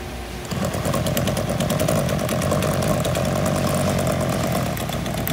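An H&S Tool PB6 pneumatic power beveler runs on pipe with a steady, loud mechanical drone and a rapid rattling pulse, starting abruptly after a brief quiet moment and holding constant throughout.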